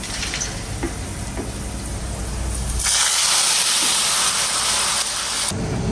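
Onions sizzling as they fry in hot oil or ghee for a dal tempering: a steady hiss that swells suddenly louder about halfway through, then cuts back near the end, with no talking.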